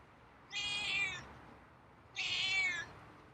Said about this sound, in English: got some meows for me